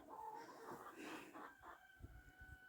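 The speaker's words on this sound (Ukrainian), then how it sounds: "Це молодесенькі курочки." Young hens clucking inside a barn in freezing winter weather, faint and somewhat distant, with soft cackling calls and low thumps of movement in the straw.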